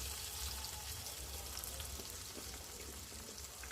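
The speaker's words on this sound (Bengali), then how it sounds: "দিয়ে মশলাটা ভালো করে কষিয়ে নেব" Masala of tomato, turmeric and chili powder sautéing in a pan: a faint, steady sizzle and crackle of frying with light stirring sounds, no voices.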